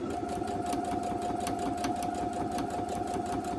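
A sewing machine runs steadily, stitching quilt block pieces together for a disappearing four patch block, a close, even rapid mechanical whir with a constant hum throughout.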